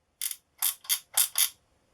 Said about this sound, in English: It's got a stop-step dial